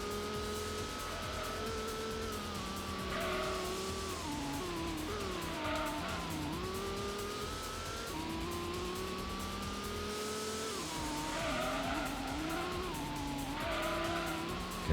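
Viper engine in the Gran Turismo racing game, blipped rather than held at full throttle through each corner, its note rising and falling steadily over fifteen seconds with some tire squeal, loud and continuous with no talking.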